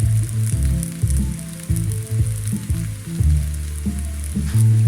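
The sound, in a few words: biryani ingredients frying in a pan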